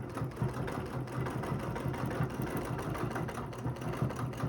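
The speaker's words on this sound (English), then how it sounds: "I'm going to stitch right back down that same line." A sewing machine stitching a quilting line on a geometric overall design, a steady close mechanical hum with rapid even needle chatter running throughout, no voice over it.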